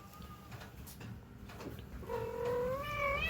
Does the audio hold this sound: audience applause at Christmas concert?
no